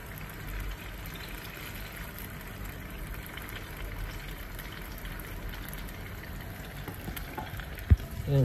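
Firm tofu pieces fry in hot oil, giving a steady, even sizzle and crackle close by throughout, with a sharp clink of a utensil near the end.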